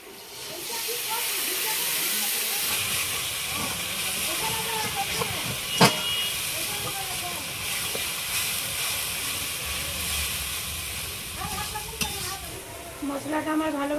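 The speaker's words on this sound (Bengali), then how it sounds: "এই চিকেন মশলাটা এবারে দিয়ে দেবো" Chicken masala paste mixed with water fries in a pan with a strong, continuous hissing sizzle and steam, close and loud, broken by one sharp clank of a utensil.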